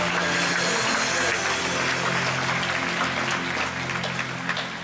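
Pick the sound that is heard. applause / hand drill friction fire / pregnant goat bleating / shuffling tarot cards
applause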